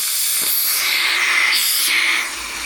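Air hisses steadily out of the open release valve on a Vevor 3-ton portable air jack, a loud, close, continuous rush that holds for over two seconds and then eases slightly at the end.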